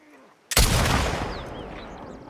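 A single loud, close sniper rifle shot rings out in The Last of Us Part II at Hillcrest, with a sharp crack followed by a long echoing tail that slowly fades.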